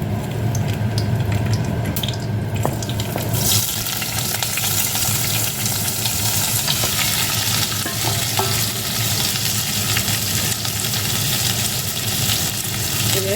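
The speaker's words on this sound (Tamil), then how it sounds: "எண்ணெய் சூடாயிட்டு நான் அந்த கோவங்காயை போட்டு வதக்குவோம்" Ivy gourd (kovakkai) sizzles loudly in hot oil in a pan, a continuous dense frying crackle with stirring scrapes near the start.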